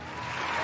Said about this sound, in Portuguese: Palmas para Belinho.